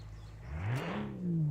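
A 1.9-liter Boxer six engine in a 1946–50 style sports car revs up hard in BeamNG, pitch climbing in a smooth rising sweep, dipping briefly, then rising again, loud and close.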